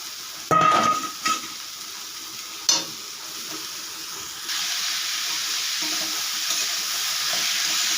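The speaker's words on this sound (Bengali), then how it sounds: "এইভাবে আমি কষাতে থাকবো" Cabbage stir-fried in a pan with chilli powder and spices, opening with a few loud clanks and scrapes of a spatula, then settling into a steady hiss of sizzling in the second half.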